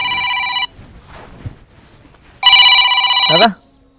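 A telephone rings in two loud electronic bursts separated by a short pause, with quiet voices between the rings.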